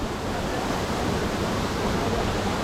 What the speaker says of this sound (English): This is the Double Drive waterfall.